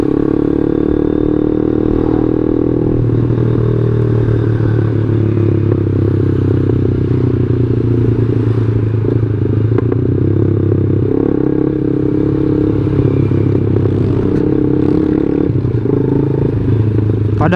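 A Yamaha Jupiter MX motorcycle engine runs steadily on its own without throttle input, a constant close hum with light clatter and scraping, under occasional faint talk.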